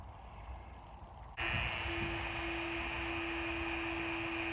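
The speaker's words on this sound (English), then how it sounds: "These are cutoff wheels, and we're going to use that to cut down our 6mm Allen wrench" A cutoff wheel on a rotary tool spins up abruptly and grinds through a 6mm Allen wrench with a loud, steady high-pitched whine. A quieter rumble comes before it starts, and no one speaks.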